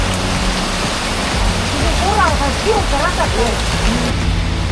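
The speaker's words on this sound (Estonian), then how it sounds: "kahjuks väljas jätkuvalt tõsiselt sajab" Heavy rain pours outside a lodging in Langkawi, a loud dense steady hiss filling the whole stretch, while a voice talks over it partway through.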